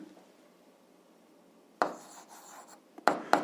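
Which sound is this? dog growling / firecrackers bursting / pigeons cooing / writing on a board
writing on a board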